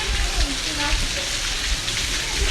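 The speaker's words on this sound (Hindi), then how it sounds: "कितना शोर है बारिश का, देखें" Heavy rain in Murree, Pakistan pours in a steady, dense hiss that fills the whole stretch without letting up.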